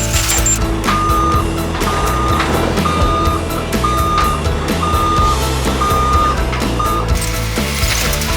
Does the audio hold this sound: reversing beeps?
yes